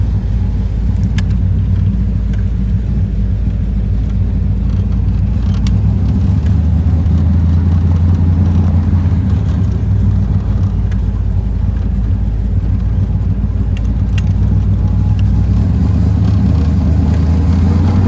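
A Small Block Chevy 350 V8 idles steadily and slightly rich with a JEGS HEI distributor, a loud, continuous low rumble running throughout with no talk.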